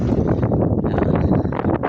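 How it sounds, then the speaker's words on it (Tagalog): Gusty wind buffets the microphone in loud, rough rumbling bursts, close and continuous throughout. "Medyo mahangin po yung panahon."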